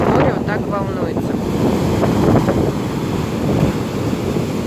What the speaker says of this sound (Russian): Вот как только погода меняется, даже на 1-2 градуса, море вот так волнуется.